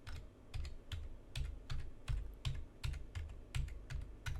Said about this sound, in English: So for the IP, you need to type that IP address in.